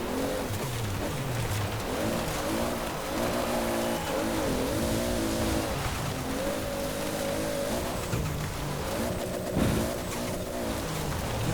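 Simulated engine of a 1998 Toyota Supra RZ in Forza Horizon 4, driven off-road over bumps and jumps: a steady, loud engine drone that rises and falls in pitch with revs and shifts, continuous throughout with no talk.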